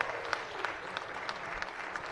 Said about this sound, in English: give them a little round of applause right off the bat